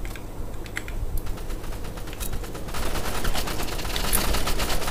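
Rapid gunfire in the Roblox shooter Rivals: dense bursts of sharp, clicky shots, sparse at first and then nearly continuous and louder toward the end, with no talking.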